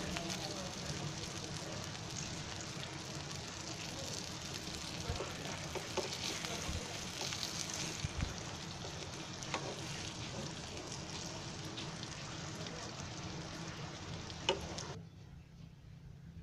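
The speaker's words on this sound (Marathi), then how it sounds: "अशी गरम गरम मच्छी तव्यावर आहे ना अशी एका साईडला तेल करायचं" Kupa tuna fish frying in oil on a hot griddle, giving a steady, close sizzle with scattered pops and crackles throughout, cutting off sharply near the end.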